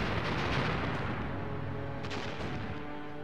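Naval fleet artillery bombardment in the video game Teitoku no Ketsudan 4, heavy gunfire booms rolling together into a continuous dense rumble, with a sharper burst near the end and no talk.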